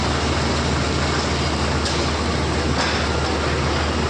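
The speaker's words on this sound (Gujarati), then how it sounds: "જો આ ટ્રેન જાય છે આપણી" A train passing a coal unloading site at DCW in Dhrangadhra, a loud, continuous close rumble and roar that stays steady throughout.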